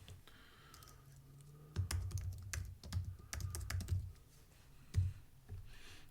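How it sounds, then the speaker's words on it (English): Computer mouse clicks come while a new Python file is created in PyCharm: a quiet close sequence of crisp clicks and soft taps, scattered in small irregular bursts with no speech. "I'm going to right-click on my project name and click New and Python File."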